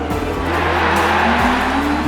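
An IndyCar race car with an Ilmor engine roars steadily and loudly throughout, a continuous close engine drone with a slight pitch shift as it passes, with no talking.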